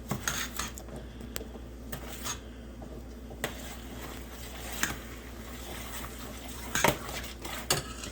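Sugar is stirred into apple butter in a pot on a stovetop, with intermittent clinks and scrapes of a utensil against the pot, quiet and close, no talking.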